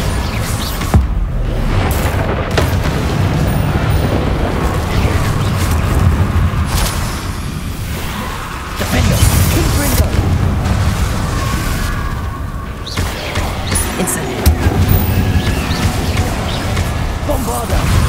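Bombarda spell explosions in Hogwarts Legacy, loud booming blasts and crashes layered over dense continuous combat noise and music, with a voice calling out spell names throughout.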